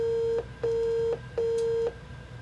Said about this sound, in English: A few minutes later, it beeps a few times